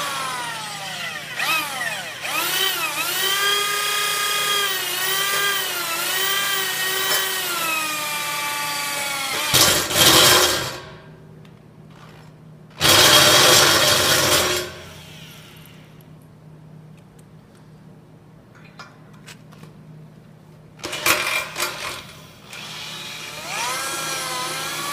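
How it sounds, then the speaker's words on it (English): Power driver running TEKS 5 self-tapping screws into a pre-drilled mechanically fastened base plate at low RPM and high torque, heard as a long whining run followed by three shorter loud bursts separated by quieter gaps. "The TEKS 5 is a self-taper. Goes in with low RPM and high torque."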